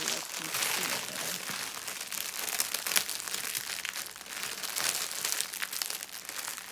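Crinkly paper colour palette sheet from a diamond art kit being folded and handled up close, a steady rustling crinkle that runs throughout with brief sharper crackles.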